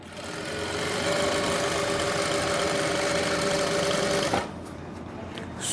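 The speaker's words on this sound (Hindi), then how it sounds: "अब सिलाई देखो मैं कैसे लगाऊंगा।" An electric sewing machine stitching a palazzo runs steadily and loud for about four seconds with a constant whirring hum, then stops abruptly, leaving quiet room noise.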